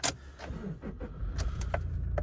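Two keys with two remotes for a Toyota Fortuner GX 4x4 jangle in short metallic bursts, a few distinct clinks spread across a couple of seconds over a low interior hum.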